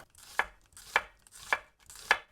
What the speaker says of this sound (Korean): 오늘 양파는요, 아주 얇게 썰어주겠습니다